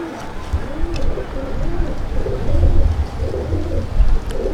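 A heavy pigeon coos while held in the hand at a pigeon loft, its soft rolling coos repeating steadily and close over a low, busy background.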